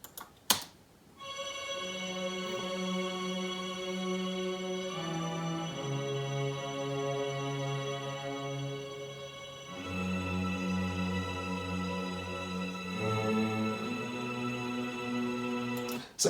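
Sampled orchestral strings sweep in a 1950s lounge style, sustained lush chords swelling and shifting every few seconds, played alone with no talk.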